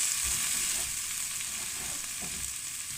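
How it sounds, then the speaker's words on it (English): Tomato pieces stir frying in a hot pan for chicken jalfrezi, a steady broad sizzle and crackle with faint stirring scrapes, close and continuous with no voices. "then we're going to stir fry those for 3 to 4 minutes"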